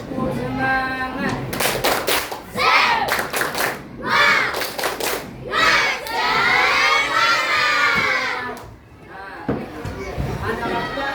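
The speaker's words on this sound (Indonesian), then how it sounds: "1, 2, 3, tepuk semangat." A class of sixth-grade schoolchildren does a rhythmic spirit clap, with bursts of sharp, patterned clapping and loud excited shouting and cheering nearby, mixed with voices chanting and talking.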